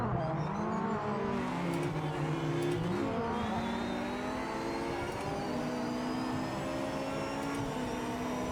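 A race car engine in the racing video game Project Motor Racing, loud and continuous, revving up through the gears with rising and falling pitch and sustained high-rpm drone, no voices over it.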